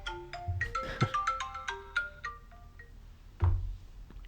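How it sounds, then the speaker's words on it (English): A phone ringtone for an incoming call plays a bright melodic run of electronic notes, fairly close and clear, with low background noise and a thump near the end. "Phone is coming in."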